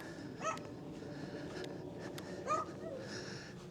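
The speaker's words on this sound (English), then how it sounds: "noisy yappy dog sitting there." A small dog at a very old pub gives two or three short, high yips at a distance over steady background noise, with a brief whimper between them.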